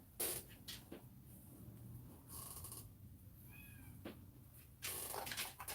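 A house cat meows a few times in a quiet indoor craft room, the faint calls rising against a low background hum.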